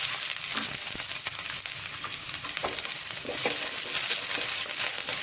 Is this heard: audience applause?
no